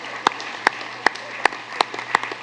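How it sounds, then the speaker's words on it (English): Applause at a school board meeting comes as a handful of sharp, evenly spaced claps, about seven in quick succession, fairly close over a quiet room hum. "can we give them all one more big round of applause?"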